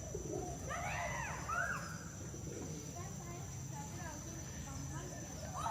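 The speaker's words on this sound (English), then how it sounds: "we've got all the birds in there eating their food" Pigeons feeding at a trough in Kuala Lumpur give soft, low coos and scattered calls over a busy outdoor background hum, fairly faint throughout.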